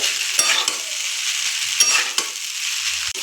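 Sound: stirring pasta frying in a pan

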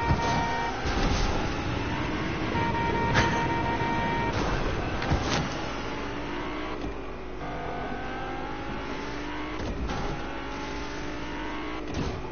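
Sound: car driving in Fortnite, video game

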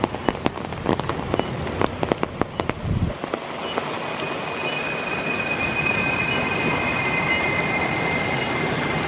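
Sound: heavy rain in the forest

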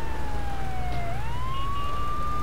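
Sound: police car siren in video game GTA 3

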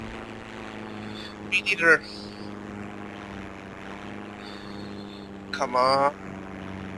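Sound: propeller aircraft engine on runway, from video game Heroes and Generals

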